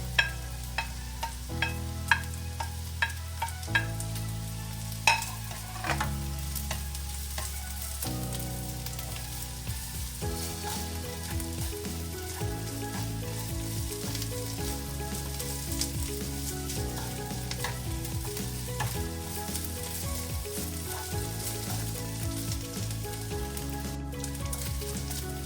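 Leftover sisig sizzles steadily in a hot pan and is stirred, with a continuous crackling fry under background music and occasional clinks early on.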